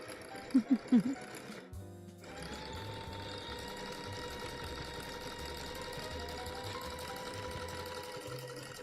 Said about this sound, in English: The trick with sewing in general, and also these types of projects with coasters and bowls and baskets, to let the feed dogs do the work.